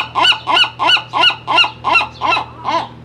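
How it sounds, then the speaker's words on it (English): A pet bird calls loudly and close by, a run of about eight regular honking cries, roughly one every third of a second, sounding much like a goose or large fowl, with no talk over it. "that's my bird here helping us"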